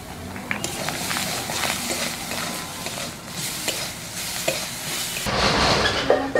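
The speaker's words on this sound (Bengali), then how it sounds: "এবার মশলাটা আমি ভালো করে কষিয়ে নিলাম।" Spice paste of turmeric, chili powder, cumin powder, salt and sugar sautés in a pan, giving a steady close sizzle with repeated scraping strokes of stirring throughout.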